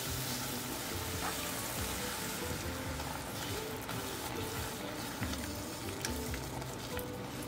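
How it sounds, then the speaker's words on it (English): Heavy cream being stirred into mac and cheese in a pan, a dense, steady bubbling sizzle with soft stirring movement throughout, fairly quiet and without talking. "And keep stirring."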